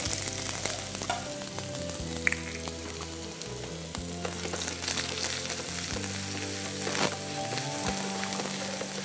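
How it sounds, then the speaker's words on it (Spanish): Garlic and onion frying in olive oil in a pan, a steady close sizzle and crackle running throughout with faint stirring scrapes and no talking. "En una sartén con aceite de oliva, rehogaremos el ajo"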